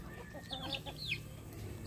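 A hen gives a few soft, quick clucks and squawks outdoors, faint and somewhat distant over low background noise.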